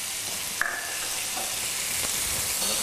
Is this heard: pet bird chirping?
no